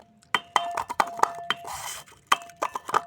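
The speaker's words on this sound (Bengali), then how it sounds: "আমাদের বাড়িতে এটাই ছিল শিলে বেটেই থেতে দিচ্ছি" Garlic being crushed on a traditional stone grinding slab, a series of sharp, close knocks and grinding scrapes in an irregular rhythm, clear and alone with no talk.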